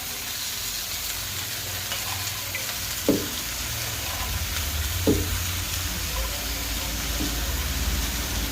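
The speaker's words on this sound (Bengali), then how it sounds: "এবার আমি এর উপরে দিয়ে দেবো পালং শাকটা" Spinach added over eggplant frying in a little oil, a soft continuous sizzle with two brief clinks of stirring, no voices.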